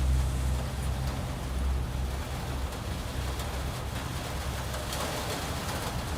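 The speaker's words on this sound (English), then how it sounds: "that's what it sounds like when it's raining" Steady rain drums on the roof of a parked camper van during an early morning in San Diego, a constant close hiss with a low rumble and a few faint bird coos in the background.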